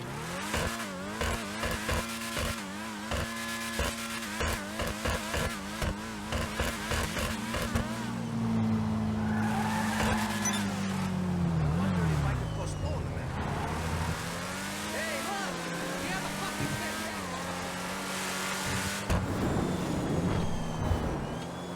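A Principe Deveste Eight supercar engine in GTA Online revs and accelerates with rapid gear shifts, then settles into a steady roar with pitch sweeps; a voice talks over parts.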